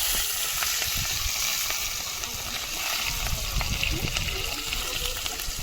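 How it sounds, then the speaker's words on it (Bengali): Chili and onion frying in hot oil in an outdoor Sundarban kitchen just after fish has been fried, a close, steady crackling sizzle running the whole time without pause. "তো মাছটা ভাজা হয়ে গেছে এবার তেলে দিয়ে দেব লঙ্কা পেঁয়াজ"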